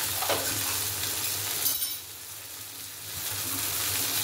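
Ground coriander, cumin and a little Kashmiri chilli powder sizzle in hot oil in a pan with a close, steady crackling hiss. The sound dips briefly in the middle, then swells again as stirring continues.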